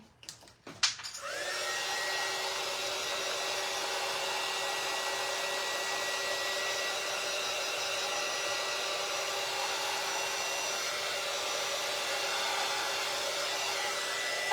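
A hair dryer runs steadily, drying paint on a cardboard fall upcycle craft project; after a brief click and sputter at the start it settles into a loud, continuous whooshing whine close by, with no talking.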